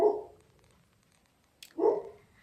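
A dog indoors gives two short, sharp barks about two seconds apart, close and loud, with quiet room sound between them.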